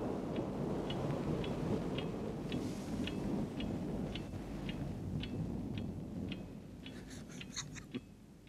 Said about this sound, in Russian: На дворе гроза собирается.